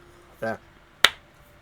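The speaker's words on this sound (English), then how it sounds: "Apologies for that clap" A single sharp clap in the Star Trek Voyager Across the Unknown video game, one crisp, loud, close crack that decays quickly, preceded by a short voiced sound.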